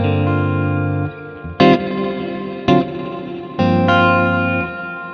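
Guitar chords through a Strymon Nightsky reverb pedal with its extra effects turned off, several strummed chords ringing out with a lush, sustained reverb tail between strikes, loud and close.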